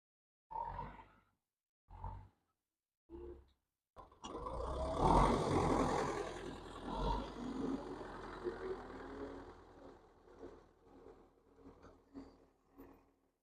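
A tractor pulling an old crop sprayer starts up and drives off, a rumbling engine rising after a few short bursts, then holding steady and gradually receding while fading in loudness.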